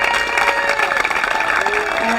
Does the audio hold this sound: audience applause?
yes